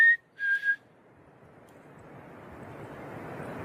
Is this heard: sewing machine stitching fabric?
no